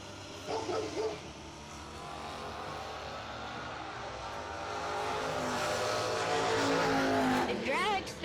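Drag racing at a bracket racing event, with a blower-equipped dragster and a purple Camaro at the starting line: engines rumble and roar, building louder toward the end, with a brief tire squeal and crowd or announcer voices underneath.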